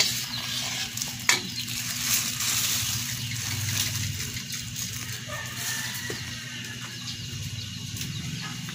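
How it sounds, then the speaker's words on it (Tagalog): Banana pieces fry in caramelized sugar, giving a steady, close bubbling sizzle with stirring scrapes and a brief clatter early on, and no talking. "caramelize muna natin yung sugar. Tapos ilagay ang banana"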